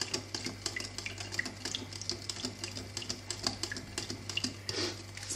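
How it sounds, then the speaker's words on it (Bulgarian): A spoon or whisk stirs tutmanik batter with sugar and salt in a bowl, giving quick, light, regular clicking and scraping taps, close but fairly quiet, with no voices. "Продължаваме да бъркаме."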